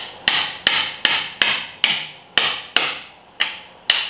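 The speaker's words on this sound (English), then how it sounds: "Use the wedge part of the pry bar." A pry bar is worked in to wedge out a car axle on a Northstar V8 during rear main seal work, giving nine sharp, close metallic strikes at a steady, fairly quick pace with nobody talking.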